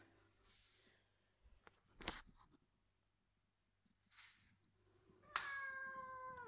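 Quiet rustling and a sharp knock, followed by a clear, plaintive cat meow near the end.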